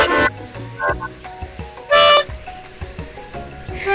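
Honking from a video game character, two short loud blasts about two seconds apart over steady game music and effects.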